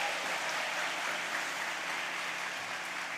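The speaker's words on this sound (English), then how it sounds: "please give him a huge round of applause when he comes out" Audience applause at a university keynote talk, a dense, steady wash of clapping filling the room for the whole stretch without pause.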